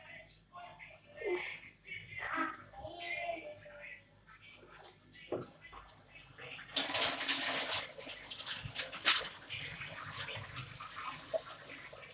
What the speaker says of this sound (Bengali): আমার হাত দিয়ে এই যে পেয়ারা ধুইছি।